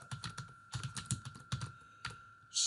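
Close, crisp typing on a computer keyboard while entering labels into a database program, in irregular bursts of keystrokes with short pauses and no talk.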